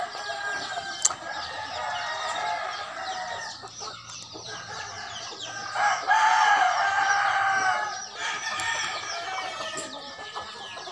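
A large flock of around fifty chickens and roosters in a big farm coop clucks and cackles steadily, with a few loud crows standing out and no voices.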